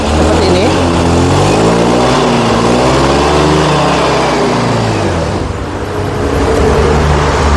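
A Yamaha Fino scooter engine is throttled up with the gear lever raised, a steady mid-range motor hum that rises and falls, loud and close, with a dip near the end.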